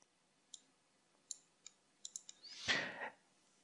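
A computer mouse clicks sparsely and quietly while dragging reference planes in Revit, about seven sharp isolated clicks followed by a louder brief rustling thump.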